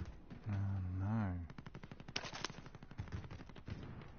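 Rapid submachine-gun fire in an online battle-royale shooter game, a dense run of sharp shots following a sustained synthetic tone, with a voice also present.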